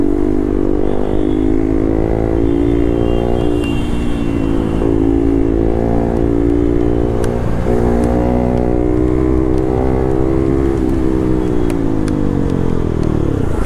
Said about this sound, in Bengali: এখন আরও বেসটা অনেকটা বেড়ে গেছে, গাড়ির আওয়াজ অনেকটাই বেড়ে গেছে